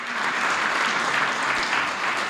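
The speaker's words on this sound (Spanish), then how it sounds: "Quiero que por favor le brindemos un aplauso" Audience applause for a speaker at a presentation on IFRS accounting standards, steady dense clapping filling the whole stretch at moderate loudness with no voices over it.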